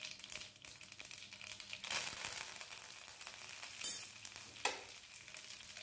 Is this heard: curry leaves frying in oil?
yes